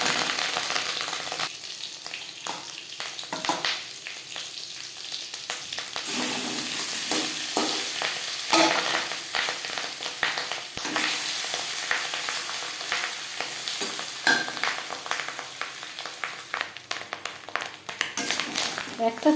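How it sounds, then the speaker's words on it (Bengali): Marinated rohu fish roe fries in hot refined oil with a sustained, close crackling sizzle and scattered pops. A voice talks over it at times. "একটা সাইড ভাজা হয়ে গেলে মাছের ডিম উল্টে দেবো।"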